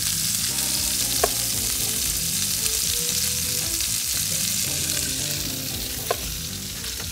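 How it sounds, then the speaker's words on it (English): Red onion tossed into a hot frying pan gives a loud, steady, close-up sizzle throughout, with a couple of faint utensil clinks and no speech. "One last thing, we're gonna throw a little red onion in here."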